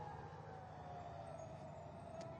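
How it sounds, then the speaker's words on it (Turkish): Air raid sirens wail across Ashkelon during a rocket attack, a steady sustained tone held for the whole stretch over dense low rumble and background noise, heard from a distance. "şu anda yeniden Askelon'da siren sesleri yankılanmaya başlandı"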